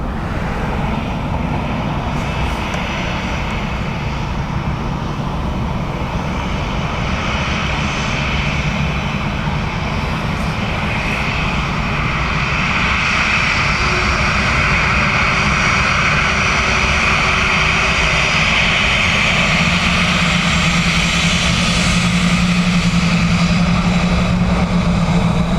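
An airliner on final approach to land at Dublin Airport, its engines a loud, steady roar that holds through the whole stretch and swells slightly toward the end, with no talk over it.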